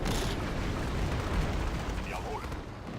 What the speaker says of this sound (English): Jagen Sie den Panzer in die Luft.